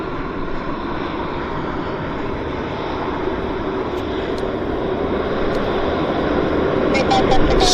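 Aircraft landing at Vancouver Airport, inbound from Whitehorse: a steady roar of engine noise that grows a little louder toward the end, with someone talking over it.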